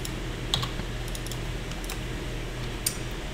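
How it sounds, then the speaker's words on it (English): Keys clack on a computer keyboard as a command is typed at a Windows command prompt, scattered light taps with a couple of sharper strikes over a steady background hiss, no speech. "first thing I'm going to do is type in Java C and press enter"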